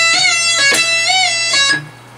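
Electric guitar lick, played close and loud as singing sustained notes with bends, release, vibrato-like wavering and quick pull-offs, ending with a fade and no talking.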